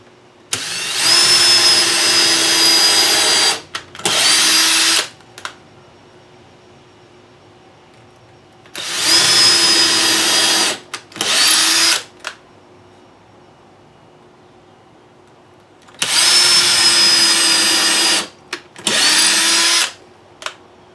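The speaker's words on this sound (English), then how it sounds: "I'm going to go ahead and pre-drill these 4 holes" A power drill pre-drills four holes into the top of a plastic box storage cabinet, whining loudly in three pairs of bursts, one long and one short, separated by quiet pauses.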